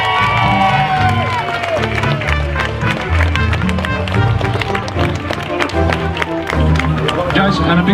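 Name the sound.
crowd cheering for the juniors at rugby league fun day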